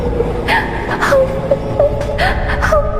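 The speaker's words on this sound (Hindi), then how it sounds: "एक औरत के रोने की आवाज आने लगती है" A woman's high, wavering cries and whimpers for a Hindi animated ghost story set at a haunted railway station, repeated rising sobs over a low rumbling background.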